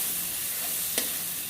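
Spice masala for mutton kosha sautéing in a pan, a steady close frying hiss with one brief soft tap or scrape partway through, no talk.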